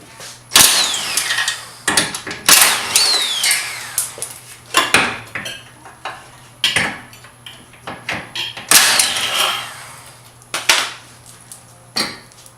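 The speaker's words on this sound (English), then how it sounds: "Okay, now we could take off the crash support. It's held by 312 bolts, and then we'll be taking them off." Tools removing crash support bolts from an Acura RSX: irregular metallic clanks, scrapes and ratcheting bursts, close and fairly loud, separated by short pauses, with no talking.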